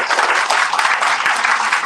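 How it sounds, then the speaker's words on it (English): A loud, dense round of audience applause at a birthday celebration gathering in a devotional center, steady clapping from a crowd with no break. "let us do one round of applause for brother"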